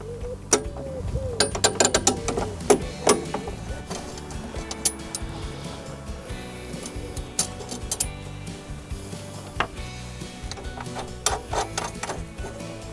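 Spanner tightening bolts onto split washers while setting up an RM43SP80V, a busy run of close metallic clicks, taps and ratcheting knocks spread through the whole stretch with no talk.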